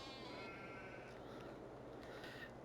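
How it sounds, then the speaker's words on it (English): Sheep bleating inside a sheep pen in Farming Simulator 22, several overlapping bleats above a steady low hum of game ambience, continuous throughout. "This is the sheep pen that allows you to do sheep milk. So Neil's busy milking sheep"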